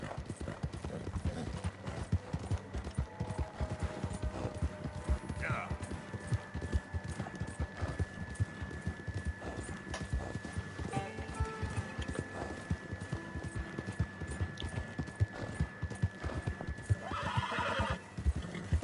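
Hooves clip-clop steadily from a horse in Red Dead Redemption 2, with a neigh breaking through near the middle, all fairly quiet over continuous game ambience and music.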